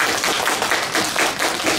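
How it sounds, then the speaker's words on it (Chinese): Audience applause for a brand spokesperson at a GLAMGLOW glow mask launch event, a steady dense clapping that fills the whole short stretch without pause. "大家要不要掌声鼓励一下我们的代言人？"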